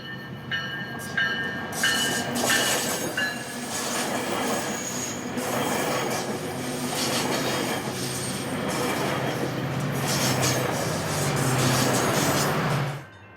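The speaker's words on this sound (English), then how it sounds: "We caught several trains at this location" A Metrolink commuter passenger train rumbles past nearby with rhythmic clacking wheels and sharp metallic squeals, loud and steady throughout before cutting off.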